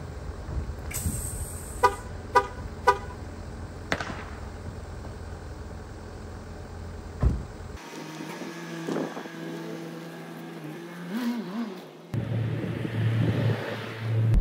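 A car on location with several sharp horn toots early on, then an engine rumble and interior road noise as it drives, moderately loud with no talk.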